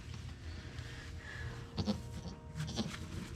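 A newborn dairy goat kid on a farm gives a few short, soft bleats in quick pairs against a low background hum, with no one speaking.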